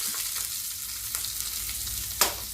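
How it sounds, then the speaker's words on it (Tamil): Steady crackling sizzle of spices tempering in hot oil for a South Indian buttermilk curry, with a few sharper pops and one louder burst near the end. "இதை பாருங்கள், இதில் போட்டு தாளிக்க போகிறோம்."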